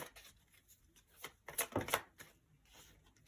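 Tarot cards being shuffled and drawn at close range, a quiet run of soft papery riffles and slides that swells into a few sharper flicks and snaps before trailing off.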